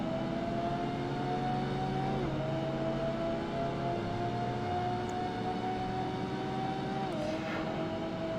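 A Porsche Carrera races at the Nürburgring in Project Gotham Racing 2, its engine holding a steady sustained whine with occasional gear-shift pitch drops, alone without talk.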